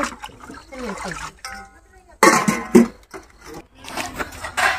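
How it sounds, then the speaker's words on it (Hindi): Metal utensils washed with water outdoors, with irregular splashes and clattering bursts between stretches of someone talking. "यहाँ मैं बर्तन को आज लेती हूँ तो धुल लेते हैं"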